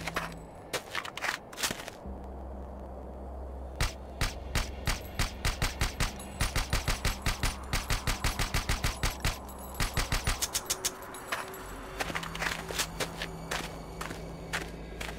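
Suppressed automatic weapon fire in the video game Lastworld, with rapid bursts of muffled shots repeating in quick rhythmic runs and brief pauses between them, loud and close over a low steady background hum.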